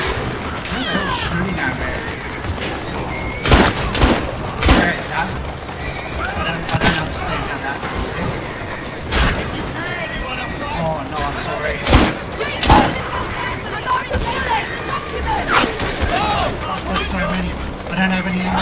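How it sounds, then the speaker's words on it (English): Gunfire in Assassin's Creed Syndicate, set in Victorian London, with repeated sharp shots scattered through busy street combat noise, some close and loud, mixed with shouting voices. "Who's shooting at me?"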